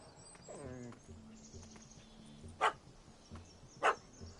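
A puppy barks in The Witcher video game, two sharp, loud yaps about a second apart over a murmuring game soundscape, with a voice speaking early on.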